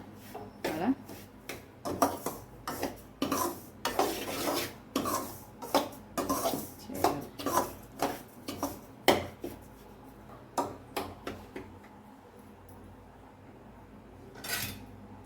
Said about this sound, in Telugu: కొంచెం గోల్డెన్ బ్రౌన్ కలర్ వచ్చే ఫ్రై చేస్తూ ఉండాలి